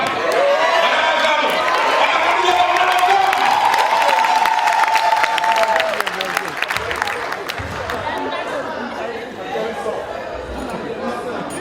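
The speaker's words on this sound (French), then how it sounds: "j'ai vu des hommes applaudir" A live comedy show crowd in Grand-Bassam, Côte d'Ivoire, applauds loudly and steadily with chatter and cheers, swelling through the first half and then tapering to a lower mix of claps and murmuring voices.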